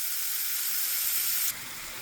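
Frozen chard and pork fry in a pan with a constant, bright hiss of sizzling and steam that drops a little in loudness partway through, with no talking.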